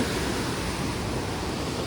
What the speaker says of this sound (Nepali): यो पानीको फ्लो हेर्नु त यहाँ कस्तो मजाले छ